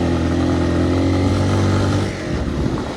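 A Hartford VR motorcycle in Pokhara with an unopened engine and about 10,000 on the clock runs loud and close, a steady, thick idle whose tone shifts and roughens near the end.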